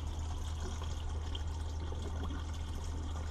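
Water from a boat's onboard tank pours and trickles steadily while the water pump builds pressure, a faint continuous splashing over a low steady hum.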